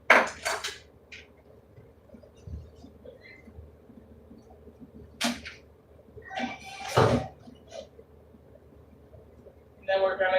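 A metal utensil scrapes and clinks inside a cooking pot while leftover beans are dug out from a chili cook, with short scraping and knocking bursts spread across the clip and speech in between.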